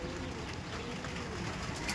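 Golden-eyed Madras pigeons coo softly in a loft, low repeated calls blending into steady background noise without speech.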